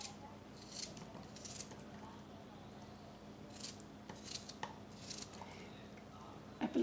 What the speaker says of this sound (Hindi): एप्पल काट लिए हमने।